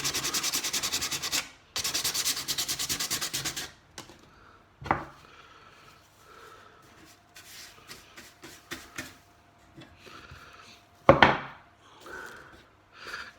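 Wood being sanded by hand for shelves, two long bursts of steady rasping strokes near the mic, then quieter intermittent rubbing and a few sharper scrapes and knocks.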